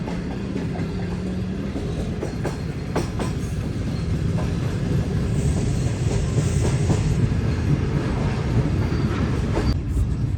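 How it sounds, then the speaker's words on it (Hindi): The Shah Hussain Express, a Pakistani passenger train, approaches Khanewal Junction station with a steady rumbling roll and rhythmic clacking of wheels on track, continuous and fairly loud, with a faint high squeal partway through. "तो दोस्तों 11:05 पर ट्रेन हमारी अप्रोच बना रही है खानेवाल जंक्शन रेलवे स्टेशन पर।"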